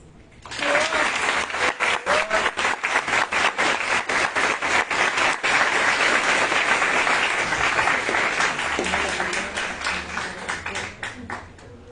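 A packed room of attendees at a World Water Day panel in Mazatlán, Sinaloa breaks into loud, sustained applause that swells, holds for several seconds, then gradually thins out, with a brief voice near the start.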